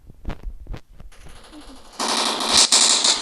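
Gunfire from the mobile shooter Standoff 2 comes as a loud, rapid automatic burst in the last second, after a few soft thuds and quiet game ambience.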